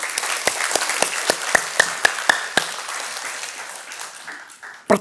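A church congregation claps during a Sunday service, a burst of distinct, fairly loud hand claps that thins out into a fading patter, with one last sharp clap near the end.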